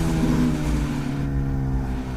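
A Suzuki GSX-S1000 motorcycle with a Yoshimura R11 straight-pipe exhaust runs in a steady, close, loud drone, its engine note holding even throughout without sharp revs.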